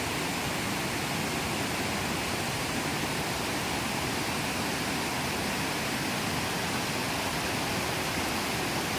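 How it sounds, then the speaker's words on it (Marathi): A waterfall on a rocky hillside pours in a steady, dense roar of rushing water, broadband and unbroken for the whole stretch, with no voices over it. "दोन्ही साईडने धबधबा आहे तर हा धबधबा पहिला सगळ्यांना दिसतोच"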